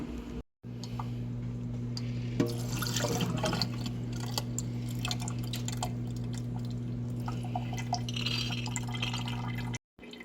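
Fresh water swished around soaked food in a container to rinse it, with steady close sloshing and dripping over a constant low mains hum; brief dropouts near the start and end.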